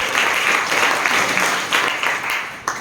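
A crowd at a leadership summit event in Bhagalpur applauds loudly and continuously, a thick wash of clapping that swells slightly before a sharp final clap near the end.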